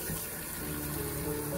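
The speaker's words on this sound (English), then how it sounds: "Cold water on." Cold tap water runs steadily into a teapot, a loud continuous rushing and splashing stream with a faint rising tone as the vessel fills, no talk.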